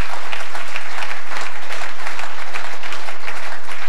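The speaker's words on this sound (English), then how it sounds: "And the crowd show their appreciation for a truly magnificent pull shot." A crowd at the 2001 Embassy World Pool Championship quarter final applauds a pool shot, with loud, sustained clapping and no break.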